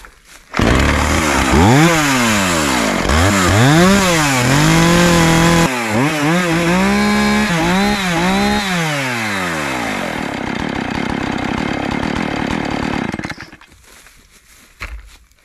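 A Husqvarna Rancher chainsaw snarls close by, revving up and down repeatedly in rising and falling sweeps, then holds a steady high whine before cutting off.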